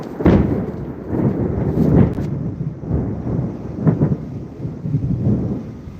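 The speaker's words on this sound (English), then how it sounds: "So hopefully the storm passes." Low rumbling thunder from a passing storm rolls through in repeated booming swells, loud and close, with no talking.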